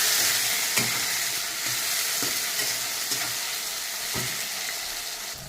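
Chopped tomato sizzles in a frying pan, a steady bright hiss of frying with occasional stirring clinks and taps, close and continuous without talk.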